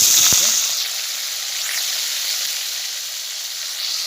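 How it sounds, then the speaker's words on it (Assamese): Paneer sizzles in hot oil in a home kitchen as a meal for guests is cooked, a steady hiss close by with a brief clatter at the start. "এতিয়া আমি ইয়াত পনীৰটো ভাজি ল'ম"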